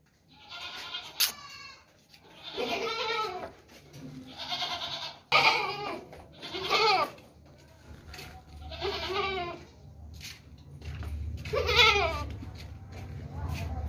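Pregnant dairy goats at a goat market bleat repeatedly, about eight loud, wavering calls at close range with short gaps, over low background noise.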